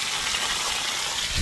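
Water gushes nonstop from a vandalized drain gully at a property where much water has been wasted, a loud, steady rushing roar that holds constant throughout.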